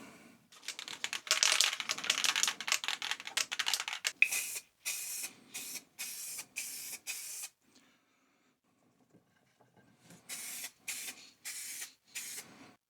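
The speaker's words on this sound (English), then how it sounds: "now I'm ready to spray paint them in my makeshift spray" Spray can paint hissing onto cleaned motorcycle side stand parts inside a makeshift spray booth, a long continuous burst followed by a series of short, evenly spaced sprays, a pause, then more quick bursts, close and fairly quiet.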